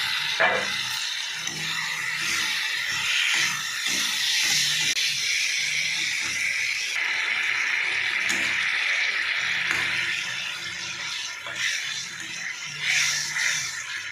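Fish frying in a tomato, onion, chilli and turmeric masala gives a steady, close hiss and sizzle that runs unbroken throughout, with faint scraping stirs here and there and no voices.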